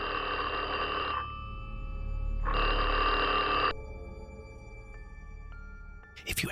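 Old telephone bell ringing in a quiet, eerie horror-story setting: two long electric rings separated by a pause, followed by faint lingering tones and a brief scrape at the end.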